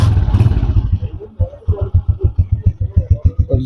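A restored 2020 Honda CG125 motorcycle starts up close by, then settles into a steady thumping single-cylinder idle with evenly spaced pulses.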